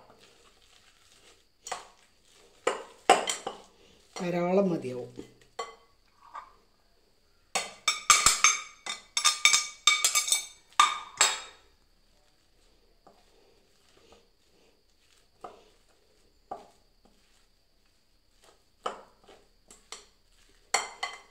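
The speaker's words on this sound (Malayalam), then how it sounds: "ഇനി അത് കുറേശ്ശെ ഇട്ട് കൊടുത്തിട്ട് ഇളക്കി കൊടുക്കാം. നല്ലപോലെ മിക്സ് ചെയ്ത് എടുക്കാം." Spoon scraping and clinking against a bowl while bread and banana are stirred and mixed together for a mini cake, coming in irregular bursts of tapping and clatter, with a brief voice in Malayalam in the middle and quiet gaps between.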